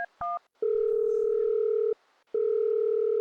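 A telephone receiver picked up to place a call gives a few short keypad beeps, then a steady dial tone that drones, breaks off briefly and resumes, loud and clear with no talking.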